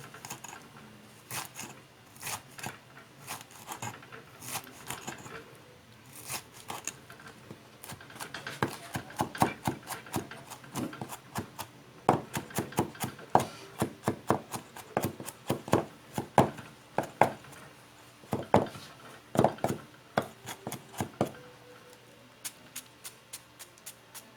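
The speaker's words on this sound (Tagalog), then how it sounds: "Ang puso ng saging, pinuhin siya." Knife finely chopping banana heart on a cutting board, a long run of quick, steady taps that grows denser and louder toward the middle, close up with no talking.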